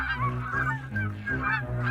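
A flock of geese honks in a cartoon story, a dense run of repeated nasal honks overlapping close together with no talking.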